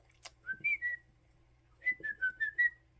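A pet bird whistles two short runs of bright, sliding notes, a brief chirpy phrase, a pause, then a longer warbling phrase, close by in a quiet room.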